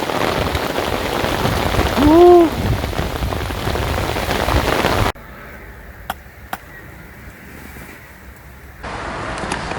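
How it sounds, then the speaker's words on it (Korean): Heavy rain pouring down during a flood-swollen fishing outing as the water level rises, a dense steady hiss for the first half, then quieter rain with a few close drips and taps. "비가 좀 많이 와가지고 수위가 지금 오르고 있습니다"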